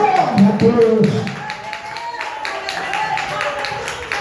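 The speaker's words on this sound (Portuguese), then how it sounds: "E recebe o servo de Deus com as palmas bem alegres." A church congregation during a family worship service claps rhythmically and cheerfully, the regular hand claps running beneath a loud voice throughout.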